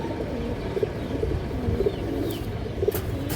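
Male pigeon cooing in a giribaz pigeon loft next to a large red hen, a series of soft low throaty coos repeating every second or so, near and steady with no voices.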